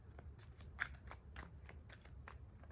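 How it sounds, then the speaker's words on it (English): Tarot cards are shuffled by hand, a faint, close run of soft papery riffles and light clicks in an otherwise quiet room. "Just want to show you that we're shuffling the cards."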